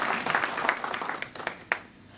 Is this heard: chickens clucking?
no